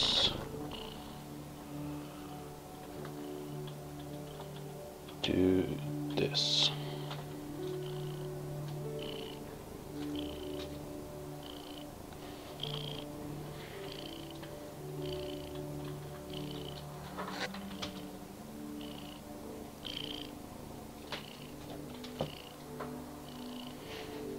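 A house cat purrs softly and steadily close by, a faint continuous rumble over low background noise with a few small knocks and clicks.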